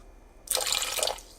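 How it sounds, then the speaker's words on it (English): Extra water poured onto white rice in an Instant Pot Mini, a short close splashing trickle of about three-quarters of a second on its own in a quiet kitchen. "I'm going to add about 2 tablespoons of extra water."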